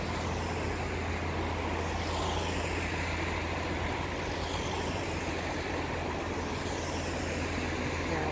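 A fishing boat's engine idling in Pula Harbor gives a steady, dense rumble that drones on without a break, with a low hum underneath, loud and close throughout.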